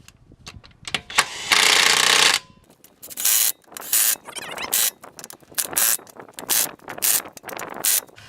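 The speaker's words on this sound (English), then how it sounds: "Now what I do is I take my gun. On my gun I have settings." An impact gun set low seats the bolts during a brake replacement. It fires a long buzzing hammer burst, then several shorter rattling bursts in quick succession, loud and close, separated by brief pauses.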